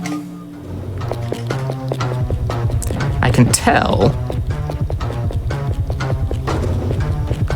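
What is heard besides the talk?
enemy footsteps approaching, video game audio cue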